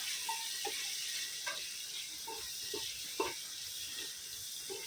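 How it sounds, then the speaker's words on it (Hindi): Potatoes frying in a pan, a faint steady sizzle broken by scattered light clicks and taps, quiet and close, no talk. "आलू को पहले फ्राई होने देंगे।"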